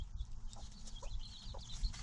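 Chickens cluck softly as a hen pecks at younger chicks, with faint scattered clucks and light taps over a quiet, low background rumble.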